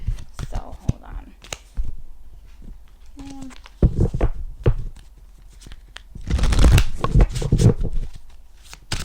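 Tarot cards being shuffled and handled for a reading, soft papery riffles and taps in bursts, with a louder flurry of shuffling near the end and brief quiet voice sounds in between.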